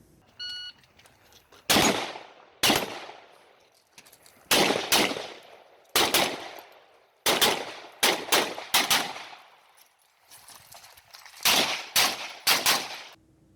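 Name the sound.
rapid gunfire while shooting and moving in competition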